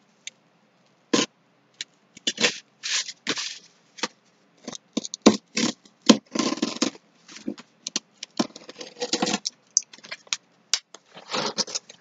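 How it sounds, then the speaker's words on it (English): Cardboard being cut through for a DIY Lazy Susan, heard as a series of close, dry, crisp tearing and slicing strokes in irregular bursts with short pauses between them, no talking. "I'm going to finish cutting this through"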